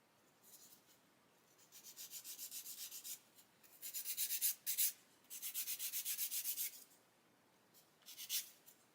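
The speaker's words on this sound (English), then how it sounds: "with a sanding stick I should be able to sand off those nibs" Fine abrasive rubbing of a sanding stick on a small stainless steel model part in several short bursts of back-and-forth strokes, close up and fairly quiet, with brief pauses between passes.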